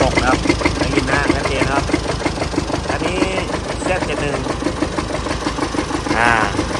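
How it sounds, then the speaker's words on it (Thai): A Chevrolet Colorado Z71 pickup idling with a rough, steady knocking from inside the engine, the rhythmic tapping running continuously under a voice talking nearby. "นี่นะเสียง ของ ปัญหาของคันนี้นะ มีเสียงดัง อยู่ในเครื่องยนต์นะ ดังปอกปอกปอกปอก"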